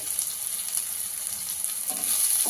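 Tomato fries in a pan of goat head curry, giving a steady close hiss of sizzling with faint stirring scrapes near the end and no talking.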